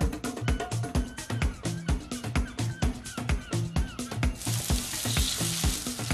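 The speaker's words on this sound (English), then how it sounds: "we are doing shallow frying here" Seafood shallow-frying in oil, a steady close sizzle with sharp crackles and pops running throughout, swelling into a denser hiss toward the end.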